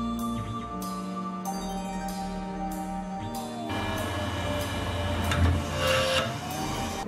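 An end mill spinning at 10,000 RPM cuts a carbon fiber carabiner at 10 inches a minute, giving a steady high whine with repeated sharp tonal bursts and pitch shifts as the cutter engages, close and without speech.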